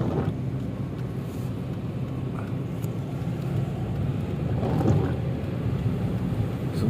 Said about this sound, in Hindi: हम पानी से गुजर कर जा रहे हैं